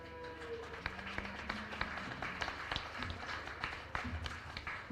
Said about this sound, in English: Let's give a big round of applause for our beef superintendents